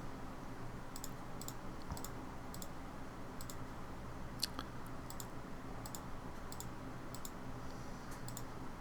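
Soft computer mouse clicks while faces are being selected in Blender, around a dozen light clicks at an uneven pace over a low steady hum.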